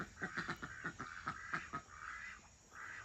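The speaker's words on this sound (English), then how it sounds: "Do you hear the male duck?" Drake calls a rapid run of raspy, frog-like notes, then a few longer drawn-out notes, close and fairly quiet, from a farmyard duck kept in a homestead flock with chickens.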